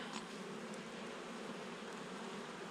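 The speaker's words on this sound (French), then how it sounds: "Les abeilles sont douces." Honey bees buzz steadily around an open hive during a brood inspection, a dense continuous hum that stays close and even throughout, with no voices.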